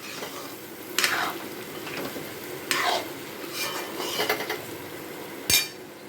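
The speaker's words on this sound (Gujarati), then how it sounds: "હવે એને આપણે સારી રીતે હલાવી લઈશું." Cut potatoes are stirred into a sizzling cauliflower and onion curry in a pan, a spoon scraping and clinking in a few distinct strokes over a steady frying hiss, with no talking.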